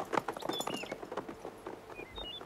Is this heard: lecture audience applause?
no